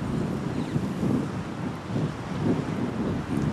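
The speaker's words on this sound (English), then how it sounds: "As the gust came up, smart play from Casey just to compose himself." A steady gust of wind roars across an outdoor lawn bowls green during a 2007 Queensland Open semi-final, a continuous low rumbling buffet on the microphone with no voices.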